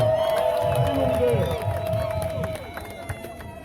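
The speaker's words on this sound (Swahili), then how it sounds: "tumpokee kwa shangwe na vigelegele sana" A crowd at the arrival of the national youth league president in Goma cheers and ululates to welcome a guest, with high wavering trills over a dense, excited roar of voices that slowly subsides.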